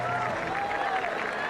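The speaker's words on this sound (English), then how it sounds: "a round of applause as the young man is helped off the field" Stadium crowd at an Iowa State versus Nebraska college football game applauds steadily as an injured player is helped off the field, a broad distant wash of clapping with a voice faintly over it.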